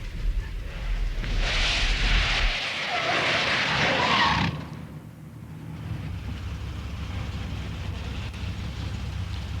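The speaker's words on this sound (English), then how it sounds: "They lock and they cause a skid like that." A car with conventional brakes locks its wheels and skids on a wet motorway, tyres hissing loudly for a few seconds before it dies down to a low engine rumble and spray.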